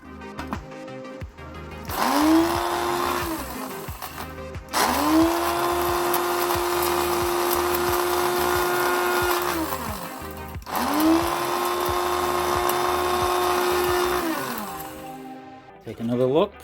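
A kitchen blender grinds material down into scenery for an HO model railroad layout, with three long loud motor runs that whine and hold a steady pitch before spinning down, separated by brief pauses, and a voice speaks over it.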